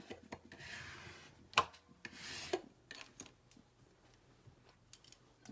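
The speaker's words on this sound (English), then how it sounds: "And let's give that a little burnish." A bone folder or burnishing tool rubs firmly along a 1.5 by 6 inch paper strip for a Christmas mini album: a few short, close, dry rubbing strokes with a sharp click between them, then quiet.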